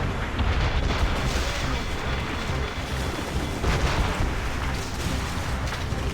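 Ship cannons fire during a naval battle in Assassin's Creed Rogue, a dense, continuous rumble of booms and blasts layered over battle noise, loud and close throughout.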